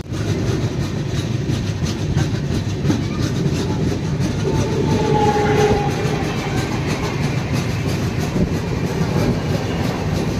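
The Puducherry-New Delhi Superfast Express, train 22403, rolls past Bhopal Junction with a continuous loud rumble and steady clickety-clack from inside the carriage, wheels beating on the rails throughout.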